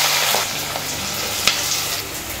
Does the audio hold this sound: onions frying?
yes